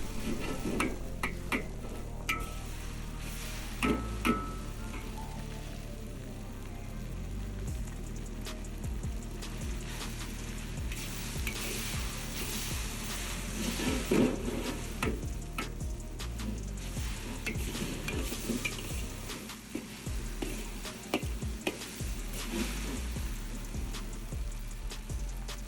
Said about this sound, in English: Here I have the heat back up just so I can finish boiling off all the excess liquid and getting a little more wok on it